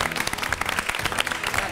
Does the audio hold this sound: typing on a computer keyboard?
no